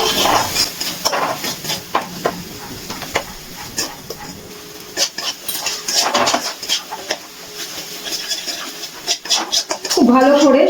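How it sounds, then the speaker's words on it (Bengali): Spices with Kashmiri chilli powder and salt are stirred and fried together in a pan for soya chunk kofta curry, with repeated metal scrapes and clinks over a soft sizzle, and a voice talks over part of it. "এবারে খুব ভালো করে সব কিছু একসাথে মিশিয়ে কষিয়ে নিচ্ছি"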